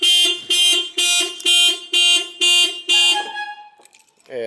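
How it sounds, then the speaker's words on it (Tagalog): Modified OEM alarm on a Ford Everest blaring in seven loud, evenly spaced pulses, then breaking off into a brief fading tone with a faint sound near the end. "Ayan, i-alarm na siya."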